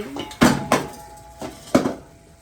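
Chicken pickle being stirred in a metal pan, with several distinct scraping clanks of a spoon against the pan at uneven intervals, close and fairly loud.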